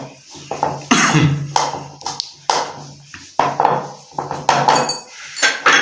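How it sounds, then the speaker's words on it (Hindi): Mashed potatoes and gram flour being mixed for aloo tikki in a bowl, giving repeated close clinks and scrapes of a spoon against the dish in an uneven rhythm. "आलू को हम अच्छी तरह से मिक्स कर लेते हैं।"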